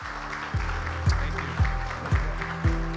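Brief applause from an audience at a community talk, fairly soft, with a few heavier thumps recurring at regular intervals beneath it.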